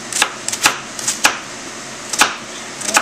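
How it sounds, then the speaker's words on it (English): An onion chopped with a knife on a cutting board for an Italian chicken dish, several sharp, close knife strikes in an uneven rhythm with brief pauses between them. "so I'm chopping the onion"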